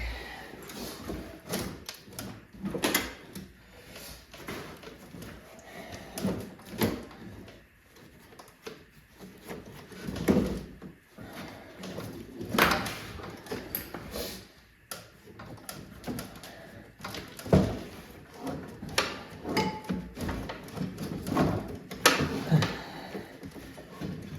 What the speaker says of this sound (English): everything that's stuck on there turned to ice. So I'm chipping ice.